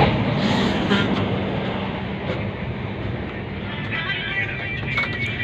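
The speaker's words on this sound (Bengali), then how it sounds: "আমাদের ট্রেন 5টা 35-এ গুয়াহাটি থেকে ছাড়ছে।" Steady rumbling hum inside an air-conditioned train carriage running from Guwahati, a dense continuous drone of wheels and motion with no clear talk.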